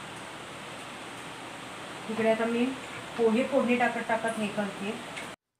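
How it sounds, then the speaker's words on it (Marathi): A steady hiss of continuous rain falling outside runs throughout, and a person talks over it during the second half. "बाहेर पावसाचा तुम्हाला आवाज येत असेल अर्धा तास झालं कंटिन्यू पाऊस चालू आहे"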